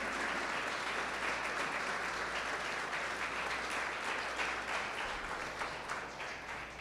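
A church congregation breaks into sustained, dense applause that holds steady and loud for the whole stretch, with a faint voice underneath.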